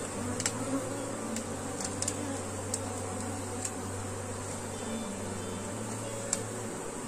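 Swarm of honeybees buzzing as an aggressive colony, a faint steady drone with scattered sharp flybys close to the microphone, no voices.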